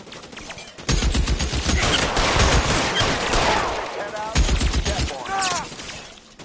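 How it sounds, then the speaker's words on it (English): Heavy gunfire from a gunfight in the L.A. Noire game, dense bursts of rapid shots filling most of the stretch, loud and close, with brief pauses between volleys and a voice shouting faintly in the mix. "this just ends up being a monumental gunfight"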